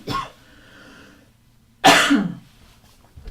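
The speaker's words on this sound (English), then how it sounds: "I have to cough again." Two coughs close to the microphone, a short one at the start and a louder, harsher one a moment later, with quiet between.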